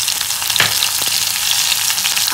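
Green chili pieces dropped into hot oil for a tempering after mustard seeds and asafoetida, giving a loud, continuous close-up sizzle with a few sharp pops.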